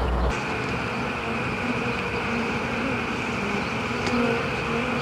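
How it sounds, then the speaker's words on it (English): Honey bees from a hive built inside a playhouse buzz in a continuous, steady drone, close and even, with no talk over it. "a lot of bees"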